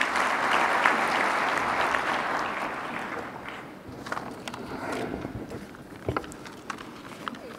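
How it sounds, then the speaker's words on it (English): A conference audience at a panel on an African single digital market applauds as a speaker walks up, loud dense clapping that gradually thins and fades into scattered claps, a few shuffling steps and murmurs near the end. "Let's give him a round of applause as he comes up"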